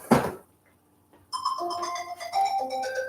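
A phone's text message alert chimes with a short series of bright, bell-like tones, preceded by a soft thump and a quiet pause.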